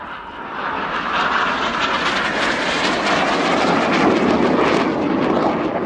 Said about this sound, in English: Each aircraft will perform a power roll, crossing the middle before turning hard away from each other.